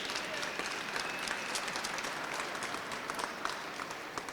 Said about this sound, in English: Another round of applause for all of you guys.